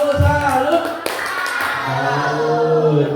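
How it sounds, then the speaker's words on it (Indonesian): A group of people performs a patterned salute clap in a classroom setting, a short burst of rhythmic claps alongside a speaking voice. "Tepuk salut."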